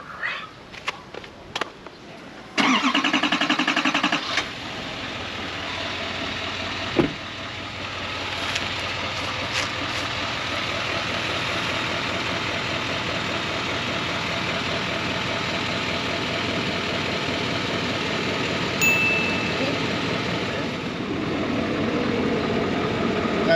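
An RV engine runs steadily at idle while warming up, a continuous low rumble that holds level after an abrupt start, with a few clanks and knocks early on and no talking.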